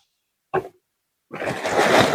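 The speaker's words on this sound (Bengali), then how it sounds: "এখন এখানে আমি পানি দিয়ে দিব" Water poured steadily into a cooking pot for a basmati rice and country chicken khichuri, rising to a full rushing pour after one brief splash, close and fairly loud.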